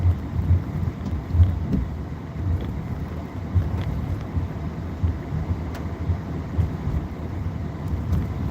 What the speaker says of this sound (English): I don't know if this rain will make it all day or not.